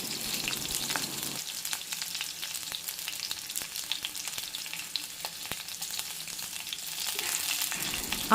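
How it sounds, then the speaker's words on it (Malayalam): Green chillies and ginger sizzle in a hot pan as a spoon stirs them, a steady close frying hiss broken by light scraping taps, with no talking. "എന്നിട്ടൊന്ന് സ്പൂൺ വെച്ചിട്ടൊന്ന് ഇളക്കി കൊടുക്കണം"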